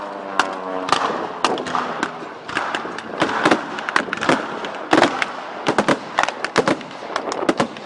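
Anti-aircraft guns fire during a historical battle re-enactment at a history festival, loud rapid bursts of sharp cracks and booms in quick irregular clusters, echoing across open ground with little pause.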